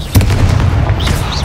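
A Confringo blasting spell going off in Hogwarts Legacy, a loud booming burst with a sharp onset followed by a rumbling tail and crackling debris, close and forceful.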